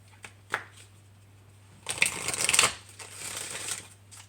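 An Angel Guide oracle card deck by Kyle Gray is shuffled close by, with a brief riffling burst of cards after a few faint taps, then softer shuffling continuing, alone without talk.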